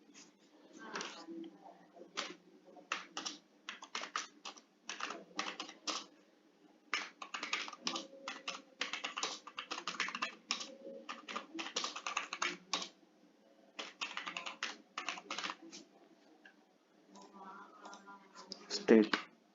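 Steady bursts of typing on a computer keyboard as a home address is entered into an online application form, with rapid clustered keystrokes broken by short pauses and a faint voice in the background.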